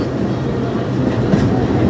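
A commuter train rolls into Padma railway station, a steady low rumble of wheels and carriages close by, with a faint rhythmic clatter running throughout.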